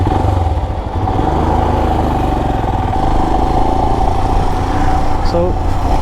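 A Royal Enfield Himalayan motorcycle's single-cylinder engine thumps steadily while riding, loud and close with a continuous low rumble and mechanical clatter for the whole stretch, with faint wind noise.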